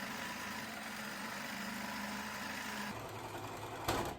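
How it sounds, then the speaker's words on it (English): A sewing machine with a free-motion foot stitches embroidery in a hoop, a continuous close whirring hum that shifts in pitch near the end before a brief sharp burst as it stops. "the free motion foot, is you can go backwards and forwards and just write and play around really with the stitch"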